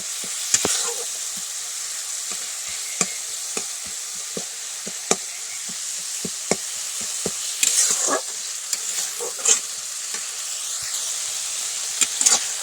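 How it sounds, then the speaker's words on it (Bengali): Spice masala frying in oil in a pan in a Bengali village kitchen, preparing a cabbage curry, with a steady soft sizzle and hiss under scattered sharp scrapes and taps of stirring, fairly quiet and close. "মশলাটা কষা হয়ে গেছে, ভালো করে ম্যারিনেট করে নিচ্ছি।"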